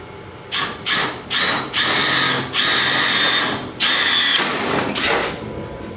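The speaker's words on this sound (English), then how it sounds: "I'm gonna drill a hole." Power drill boring a hole in a rear bumper on a 2022 TROG racer build, several close, loud bursts of whining motor with short pauses between them.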